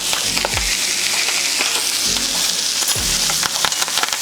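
Tarragon sizzles in melted butter in a pan alongside a garlic clove and steak: a loud, steady frying hiss with occasional soft scrapes and low thumps of stirring, close up and without talk.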